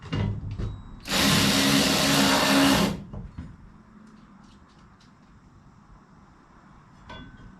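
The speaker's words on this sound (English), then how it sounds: "drill a couple holes" A power drill whines loudly for about two seconds in one burst, drilling holes in an enclosed trailer, followed by quieter clunks and handling noises.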